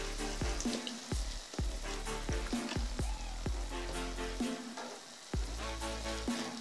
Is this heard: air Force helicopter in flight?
no